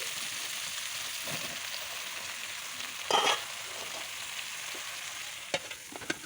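Green ridge gourd tossed into potatoes already frying in oil, giving a soft continuous sizzle with a brief louder hiss burst midway and a few light stirring knocks, fairly quiet and without speech.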